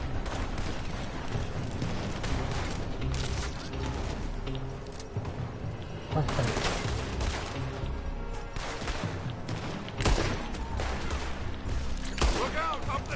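Sustained gunfire in a Red Dead Redemption 2 firefight, shots fired from a building, crackling volleys that keep going with heavier bursts, loud and continuous, with voices calling out underneath.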